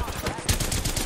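Rapid gunfire in Apex Legends crackles in a fast, loud burst of repeated shots over about a second.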